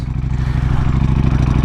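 A Ducati Panigale V4R fitted with an Akrapovic exhaust idles loudly up close, a rapid even pulse of V4 engine firing with rattly mechanical clatter, steady for the whole short stretch and no voices.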